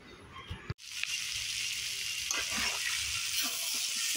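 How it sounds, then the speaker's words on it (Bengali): Okra frying in a pan, starting after a sharp clatter with a steady hiss and sizzle that continues evenly at moderate volume, with faint scraping as it is stirred. "ঢেঁড়স ভাজি করে নিচ্ছি"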